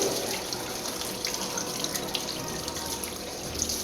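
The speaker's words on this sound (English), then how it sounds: "I'm just gonna wash my hands here" Kitchen tap runs steadily into a sink for hand washing while cooking, a constant close splashing rush of water with no talking.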